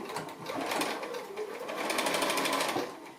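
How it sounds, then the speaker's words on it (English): A sewing machine runs a line of stitching across the end of a fabric pocket, a close, continuous rapid whirr that dips briefly midway and then resumes at a steady pace. "And so we'll stitch again across here just like we've done at the other end"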